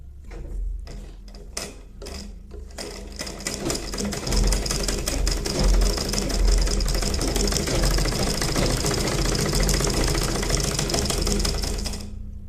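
A sewing machine runs steadily, stitching cloth for a baby cap, opening with a few short stop-start bursts before settling into continuous, close, mechanical whirring and rapid needle clatter that holds for about ten seconds, then cuts off.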